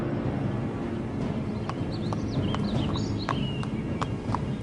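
Clip-clop of horse hooves on a city street, from horses that once patrolled Times Square and pulled tourists around Central Park, a steady walking rhythm with occasional birdsong over a constant low urban rumble.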